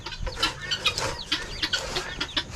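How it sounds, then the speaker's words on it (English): Busy, repeated calls from a flock of guinea fowl on a homestead, harsh rhythmic chattering cries overlapping one another at close range, with no talking. "Them guineas over there keeping enough of a racket for both of us."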